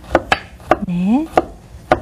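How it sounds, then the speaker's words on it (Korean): Garlic being sliced thinly with a knife, heard as about six crisp, close knife strikes at an irregular pace, with a brief tonal swoop in the middle. "마늘을 먼저 얇게 편으로 썰으세요"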